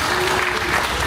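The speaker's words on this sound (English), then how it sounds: "Can we get a nice round of applause for the hard-working sound people and the lighting people?" Brief burst of dense audience applause in a cruise ship theater, a crowd clapping for the sound and lighting crew, loud and close with no pauses.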